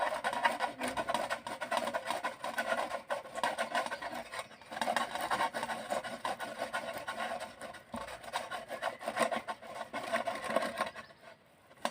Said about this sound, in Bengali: গ্রেটারের মধ্যে গ্রেট করে নেব।